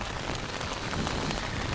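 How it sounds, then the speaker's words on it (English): Heavy rain drums steadily on a tent close by, a continuous dense patter with no talking. "Sounds so good hitting that tent."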